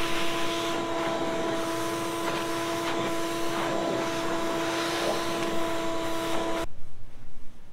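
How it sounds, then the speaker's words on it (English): A vacuum cleaner sucks dust off the surface of a wooden Hamilton drafting table, a loud steady whine with faint shifting texture, then stops abruptly near the end. "vacuum the surface so that all of the free dust is out of the pores"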